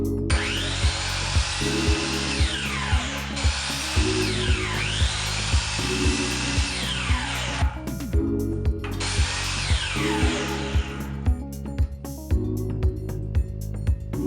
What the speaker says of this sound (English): I took a little small piece of wood and stripped it down on the table saw.